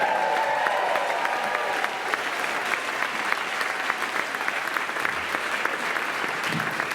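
Steady audience applause at a live comedy show in Traverse City, a dense wash of clapping filling the room at an even, loud level for several seconds with a few faint cheers.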